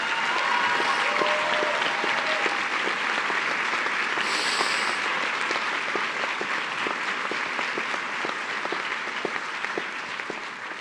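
A large crowd at a graduate degree ceremony claps for the new graduates and their advisors, a sustained, even wall of applause lasting about eleven seconds with a faint voice briefly audible partway through.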